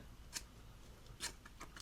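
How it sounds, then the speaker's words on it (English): Mini Flagship keychain scissors snip through paracord: two crisp cuts and a fainter third, quiet and close in an otherwise still room. "the scissors on the Mini Flagship They cut really well at the end"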